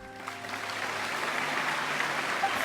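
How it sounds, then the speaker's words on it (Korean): Applause from an audience in an opera house in Genshin Impact rises from quiet into a steady spread of clapping that holds and builds slightly toward the end, with a few sharper claps near the finish. "박수로 환영해주세요"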